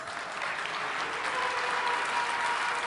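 Steady applause from a large conference audience at a tech keynote, dense and continuous, with no talking over it.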